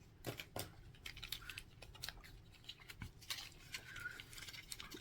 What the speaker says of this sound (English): I have to open this up with some scissors.